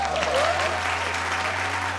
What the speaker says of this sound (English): give it a massive round of applause